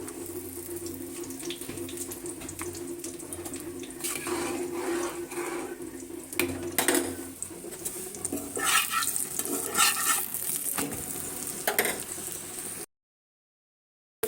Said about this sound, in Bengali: এভাবে আমি সবগুলো ডিম ভেজে নিব।